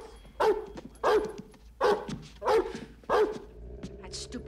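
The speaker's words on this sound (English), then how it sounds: "That stupid dog barks at me one more time." A dog in a 1993 film setting barks five times in a steady, evenly spaced series, loud and fairly close, over a low background hum with no talk.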